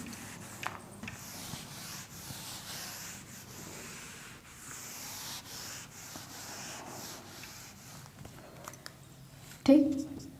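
A marker or chalk scratches and rubs across a board in steady strokes while someone speaks, ending with a brief louder knock.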